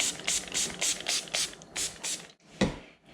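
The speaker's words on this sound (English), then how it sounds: "Okay, spray the top." A rapid series of short spray bursts from a pump bottle onto the top of melt-and-pour soap, about a dozen quick puffs in a row, then a pause and one final spritz.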